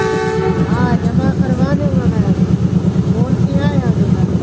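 Pakistan's Tezgam passenger train running on the line, a loud rhythmic clatter of wheels over rail joints with a horn sounding at the start and voices talking over it.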